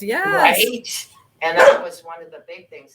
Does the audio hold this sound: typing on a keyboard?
no